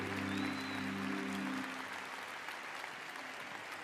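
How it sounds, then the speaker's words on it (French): A large crowd at a Nick Vujicic conference delivers a dense, steady wash of applause that fills the space and slowly eases, with a faint sustained tone underneath at the start. "give God a big round of applause of glory"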